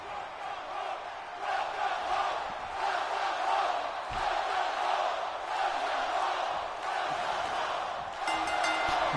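Steady roar of a wrestling arena crowd in WWE 2K25 on its feet for April Johnson's entrance at an NXT Spring Breakin show, sustained and loud throughout with a faint voice underneath.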